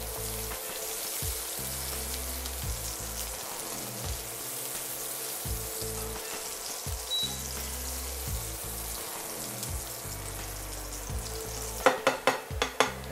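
Chili sizzles and fries loudly in a hot pan for Thai beef, a dense continuous crackle with some stirring and a few sharp clatters near the end.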